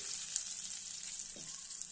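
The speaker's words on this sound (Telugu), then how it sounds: "పోపు ఎర్రగా వేయించుకుంటే బాగుంటుంది" Spices and lentils are being tempered in hot oil, giving a soft, steady sizzle and crackle throughout, close by and fairly quiet, with a faint stir or tap partway through.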